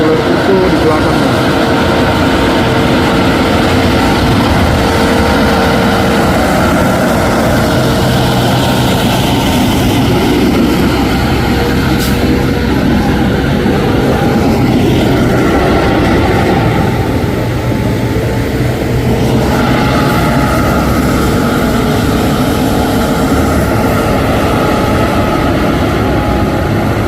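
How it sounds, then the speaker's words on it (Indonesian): Fuso intercooler truck engine droning steadily on a hill road behind Fuso Victor X tanker trucks, a loud continuous low rumble with rising and falling strain, mixed with wind and road noise while people talk over it. "Dan truk intercooler Fuso di belakangnya."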